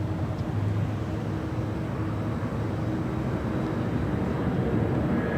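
An American Airlines Airbus A321neo, one year old, departs LAX with a loud, steady broadband jet engine roar that holds constant throughout, with no voices.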